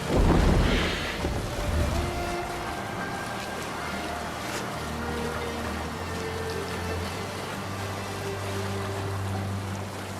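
Viking longship under sail on open sea in Assassin's Creed Valhalla, steady broadband rush of wind and water with a low rumbling drone underneath, louder surge at the start, no talking.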